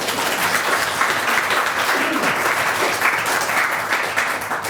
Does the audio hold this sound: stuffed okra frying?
no